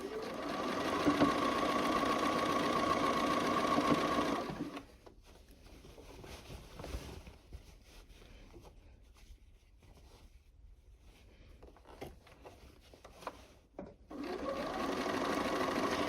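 A sewing machine stitches a Double Wedding Ring quilt, running in a fast, steady buzz for about four seconds, then stopping through a quiet stretch of faint handling noises, and starting up again near the end.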